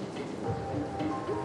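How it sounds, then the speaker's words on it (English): Steady rain falling in the video game Soul Hackers 2, a continuous soft hiss with a low rumble beneath it, even and moderately loud with no pauses. "Just started raining over here."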